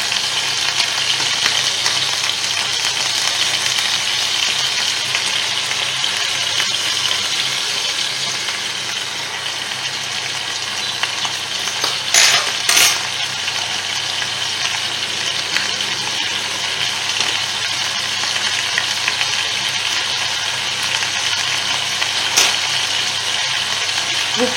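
Veal paupiettes fry steadily in a pan, with a continuous loud sizzle and a couple of brief clatters midway as they are moved around.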